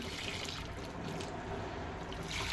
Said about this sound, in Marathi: हा कुकर पण आता थोडंसं असं पाण्याने विसळून घेऊ आणि हे पण टाकून देऊ त्याच्यात